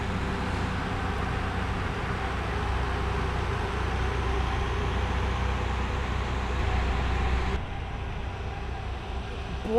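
Locomotives pulling the Kentucky Derby Train rumble past close by, a loud sustained low roar of engines and rolling stock that holds steady and then drops off sharply near the end.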